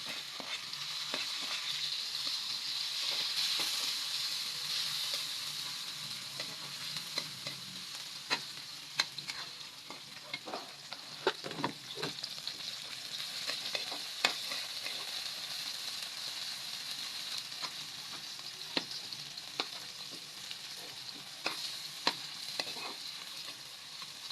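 Tomatoes sautéing in a pan for mung bean stew with bitter melon, a soft continuous sizzle with scattered light ticks and stirring clicks throughout, fairly quiet and steady.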